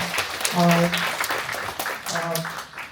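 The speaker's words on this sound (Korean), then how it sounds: "큰 박수를 보내주시기 바랍니다" Applause at a multicultural public seminar comes in short bursts of clapping from the audience, with a voice talking over it between the claps.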